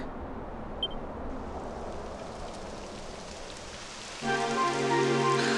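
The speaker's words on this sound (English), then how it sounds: "It would have to go and start raining, wouldn't it?" Steady in-game rain in Dragon Quest XI Echoes of an Elusive Age hisses continuously and fairly loudly, joined near the end by a sustained musical tone layered over the downpour.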